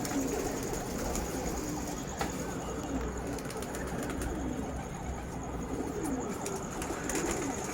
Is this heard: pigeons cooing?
yes